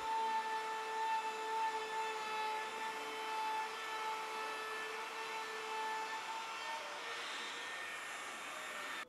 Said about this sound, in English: I use my Makita Palm router with an 1/8 inch roundover bit to add a roundover to the top and bottom of the dining table